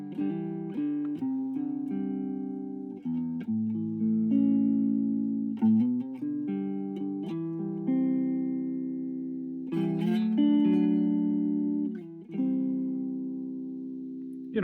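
A Stratocaster's neck pickup through a Vox Mini Go 3 on its deluxe clean setting plays sustained, ringing chords and single notes, warm and slightly bassy, close and continuous with no talk.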